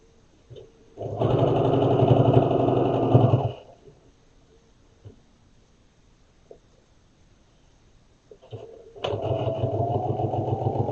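A sewing machine stitches a fabric bee bag in two loud, fast whirring runs, about two and a half seconds each, separated by a quiet pause with faint handling clicks.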